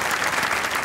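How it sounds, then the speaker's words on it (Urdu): Brief burst of steady audience clapping at a mushaira as a poet is welcomed, dense and even from start to finish. "آپ کی تالیوں میں استقبال کیجیے گا غافر شہزاد"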